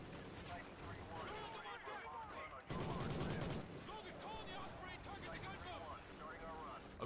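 Sustained gunfire rattles in Call of Duty Ghosts as hostile gunboats are engaged, a dense battle din with a louder burst midway, layered under radio chatter and voices.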